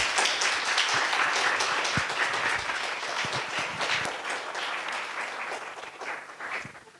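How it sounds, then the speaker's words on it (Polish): An audience claps loudly after a university lecture, a dense burst of applause that gradually thins and fades over several seconds. "Brawa dla Pana Profesora."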